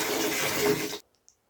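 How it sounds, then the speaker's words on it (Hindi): A glass of water splashes out onto the floor in one loud, full rush lasting about a second, then stops abruptly with a couple of faint drips after. "पानी क्यों गिराया?"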